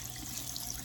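Tap water runs steadily into a sink while hands are rinsed held downward, a continuous close hiss and trickle with no talking.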